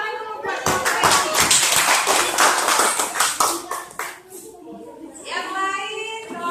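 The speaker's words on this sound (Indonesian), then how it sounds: "Beri tepuk tangan dulu buat kelompok leci." Primary school pupils in a classroom clap their hands together for a group: a loud burst of brisk, slightly uneven clapping that tapers off, followed by a child and a teacher speaking.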